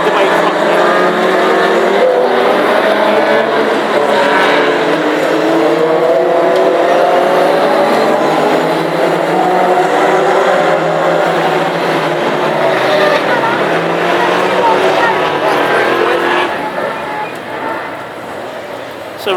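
Classic hot rod race cars on a warm-up lap at Hednesford roar loudly and continuously, engines droning and shifting pitch as they circuit, with a race commentator talking over them.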